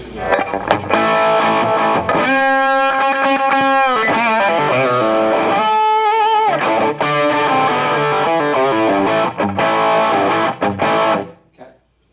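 A bright, distorted electric guitar through a Marshall Studio amp on its high treble channel, playing sustained chords and riffs with a sharp trebly edge, loud and continuous before cutting off.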